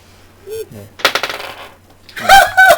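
A d20 die tossed onto a table clatters and rattles in quick bounces, with a brief pause before a louder final tumble near the end, close and fairly crisp, with no voices.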